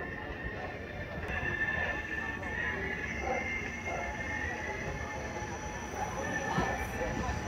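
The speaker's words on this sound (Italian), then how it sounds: "Eccolo qua il treno" Train slowly entering a station near Naples, a steady rumbling roll with faint metallic squeal and a high-pitched whine holding throughout, while a person talks over it.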